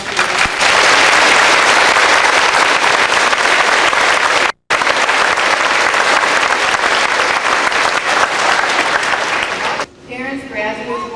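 Applause from a graduation ceremony audience at a high school, a dense, loud and steady clapping that runs nearly unbroken, with a brief gap and a voice speaking as it fades at the end.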